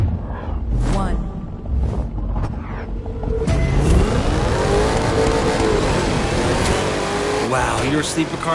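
A sleeper car's engine revs hard in The Crew 2 racing game, a rising roar sweeping in pitch and staying loud and close, with an announcer's voice heard over the motor early on.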